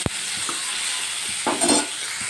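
Onion, tomato and green chilies sautéing in a pan for chutney, a close continuous sizzle broken by a sharp knock and a few soft spoon scrapes and stirs, with no talking.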